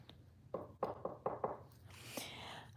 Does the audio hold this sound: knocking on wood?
yes